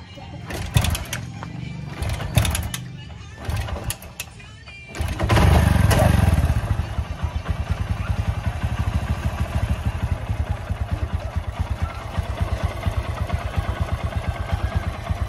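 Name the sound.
Honda XR125 motorcycle engine running after oil change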